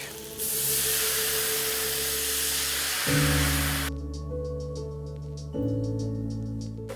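Wine hits a hot pan of peppers and garlic with a loud, steady spraying hiss, then sizzling that surges again in bursts, close and without speech.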